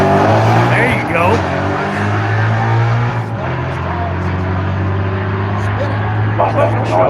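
A manual Mustang race car runs down the Firebird Raceway drag strip, its engine a loud, steady low drone throughout, with voices talking over it.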